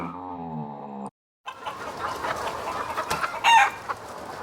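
Farmyard chickens clucking and a rooster calling, a harmonic crow-like call at the start, then a brief gap and a busy stretch of mixed hen clucks with a sharp squawk near the end.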